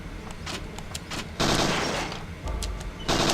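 Gunfire at a shooting range in the PS1 game Parasite Eve 2, with several sharp, loud shots and bursts over a background of clicks and mechanical clatter, without any talking.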